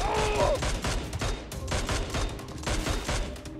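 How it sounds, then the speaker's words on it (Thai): Rapid bursts of gunfire crackle repeatedly in close succession in PUBG Mobile's zombie mode, loud and sustained, with brief electronic tones at the start. "ยิงกันใหญ่เลย"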